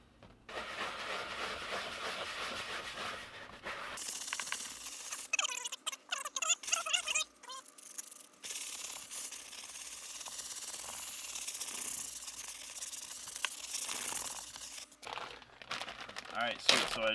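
Chemical Guys leather cleaner is rubbed into the leather of a Lexus GX470, producing close, crinkly, scratchy friction and squeaks in uneven bursts, with a voice speaking at times.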